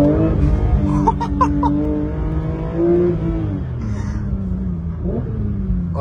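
A Porsche GT3 RS sports car engine revs and accelerates on a road, a loud, rising and falling mechanical roar with shifting pitch heard from inside the car.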